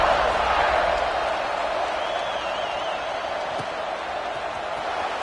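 A football stadium crowd keeps up a steady, loud roar of cheering during a kickoff, a constant wash of noise heard from a distance with no clear voices standing out.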